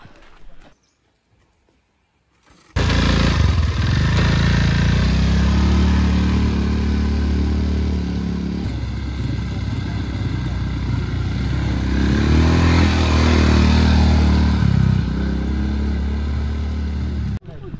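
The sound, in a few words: ATV bike engine riding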